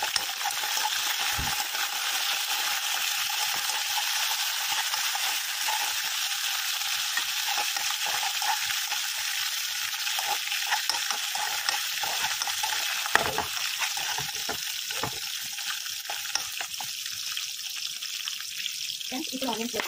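Garlic sizzling in hot oil in a pan while cooking a thotakura (amaranth leaves) fry, a steady bright frying hiss across the whole stretch with a few sharp clinks from a spoon.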